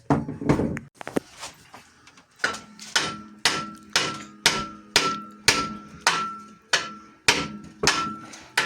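Steady hammer blows on a Lanos car's water pump, about one per second, ringing with a metallic tone, close and loud with no talking.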